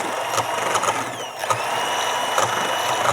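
Egg yolk whisked with sugar in a bowl, a steady, fairly loud scraping and clicking of the whisk repeating at a brisk, even rhythm, heard up close with no talk.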